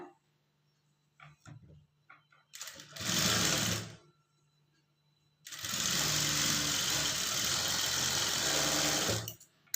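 An electric sewing machine stitching a blouse hem, running in two loud steady bursts of whirring, one short and one long, separated by quiet pauses with small handling clicks.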